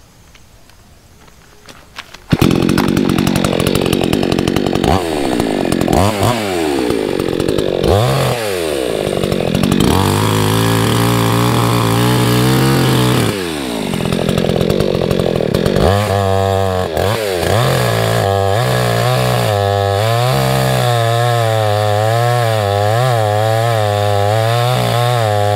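A chainsaw cuts through wood in steady, loud, sustained bursts, the engine note rising and falling as the chain bites; no talk over it.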